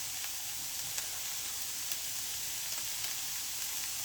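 Onions sizzle and fry steadily in a pan, a continuous bright crackle with faint scattered pops, close and even throughout with no talking.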